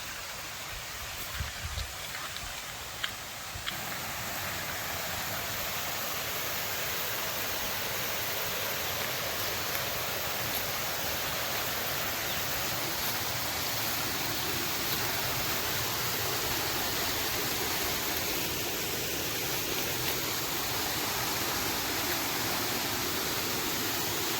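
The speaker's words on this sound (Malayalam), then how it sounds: "ഇവിടെ വെള്ളം വീഴുന്ന സൗണ്ട് കേട്ടത്" A small waterfall pours steadily, a constant rushing hiss of falling water that stays even from start to finish.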